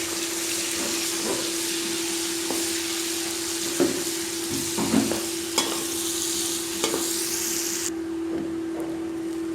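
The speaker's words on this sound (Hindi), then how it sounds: "उसी ऑयल में हम 2 मीडियम साइज़ की अनियन ऐड करेंगे चॉप्ड, और इसको मैं थोड़ा सा गोल्डन ब्राउन करूँगी" Two medium chopped onions fry in oil in a pan, a steady close sizzle with occasional stirring clatter and a faint constant hum throughout.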